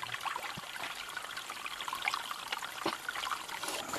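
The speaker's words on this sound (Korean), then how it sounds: "통발이 설치되니 물이 흐르기 시작합니다." Water trickles steadily in a small stream flowing past a freshly set bamboo fish trap by a dried-up creek in an Indonesian forest, a soft close babble with faint splashes.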